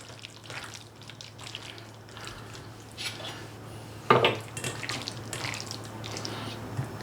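Beef is rinsed under a running kitchen tap. A faint, steady hiss of water plays over low background hum, broken partway by a sharp clatter of something knocking in the sink, with no speech.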